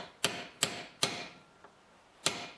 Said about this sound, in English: just tap it in with your hammer